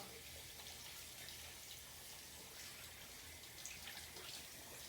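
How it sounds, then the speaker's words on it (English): Running tap water rinsing soap off hands at a sink, a steady, even hiss of flowing water that continues unbroken throughout, fairly faint and without talk. "And then you turn the water on, rinse all the soap down."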